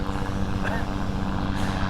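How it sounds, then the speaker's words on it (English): A helicopter passes overhead outdoors, a steady broad rumble of rotor and engine noise that holds fairly loud and continuous throughout, with no speech. "oh, there's a helicopter flying by."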